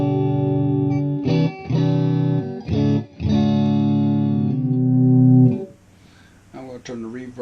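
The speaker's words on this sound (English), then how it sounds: "then the bright switch." A PRS Blistertone 50 guitar amp with its bright switch engaged rings out several sustained, chopped strummed chords, clear and up front, followed by a short quieter stretch of softer picked notes.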